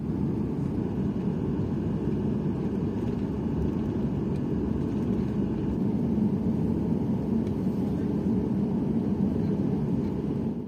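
Airliner taxiing at Nanchang Changbei International Airport, heard from inside the cabin as a steady, loud low-pitched engine rumble and hum that stays constant throughout, with no talking.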